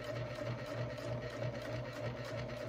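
A sewing machine stitches a bag, humming in a steady low drone with a soft, rapid pulsing of the needle, quiet and continuous without any voices.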